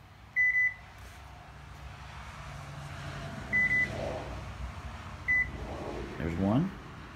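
A car's CAN bus control module beeps during programming, short electronic beeps ringing out three times at uneven intervals over a low engine-like hum, with faint voices in the background.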